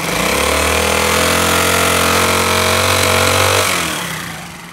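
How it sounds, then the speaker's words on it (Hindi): Motorcycle engine running with a recent fault, not taking full throttle, a loud steady close-up idle with a sustained hum that rises slightly then drops away near the end. "अभी बाइक को स्टार्ट किया है, अभी आप इसका साउंड सुनना"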